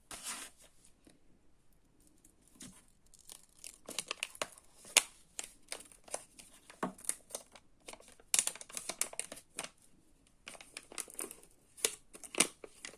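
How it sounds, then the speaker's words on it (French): Paper being glued and pressed onto a handmade tea bag Advent calendar, with close, scattered crinkling and rustling that comes in irregular bursts and short bunches of crisp ticks, sometimes pausing, with no talk. "je vais commencer déjà par coller le papier"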